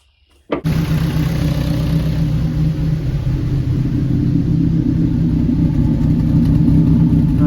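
After a moment of quiet, an engine cranks and fires up loudly, then settles into a deep rumbling idle with a lumpy, uneven lope.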